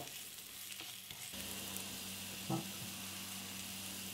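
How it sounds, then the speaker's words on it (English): Ground spices, red chili powder and turmeric, fry softly in a pan, making a faint steady sizzle with a soft scrape of a stirring spoon about midway. "Gently stir them continuously for a minute to allow your spices release its flavor."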